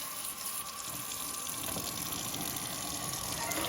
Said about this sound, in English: I'm going to turn on a little cold water